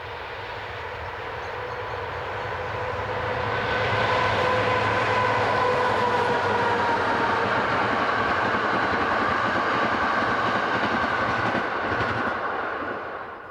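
CFL locomotive 3602 rolls through open countryside east of town toward Luxembourg City, a steady heavy rumble and rail roar swelling as it approaches and holding strong for several seconds before easing slightly, with no voices.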